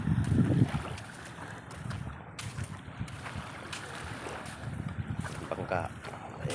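Small outrigger boat (bangka) moving on water, a low churning rumble with splashes and wind buffeting the microphone, heard close and continuous while people talk over it.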